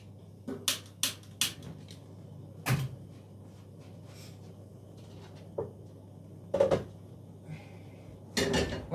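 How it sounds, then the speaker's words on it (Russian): Clattering metal knocks and bangs, a cupboard door and a frying pan being pulled out and set down, in irregular bursts close by in a kitchen. "Возьму свою любимую сковородку."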